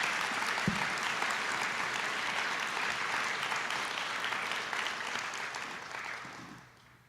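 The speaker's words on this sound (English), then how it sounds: "one more round of applause for Gil Hickman and for Bob Greenleaf" Conference audience applauding a round for two honorees, a dense, steady wash of many hands clapping that carries evenly for several seconds before fading out at the end.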